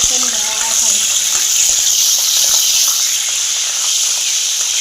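Green chillies frying in a pan of oil for a fish pulusu curry, giving a steady, close hiss and sizzle that runs without a break.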